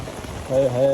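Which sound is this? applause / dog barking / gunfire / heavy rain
heavy rain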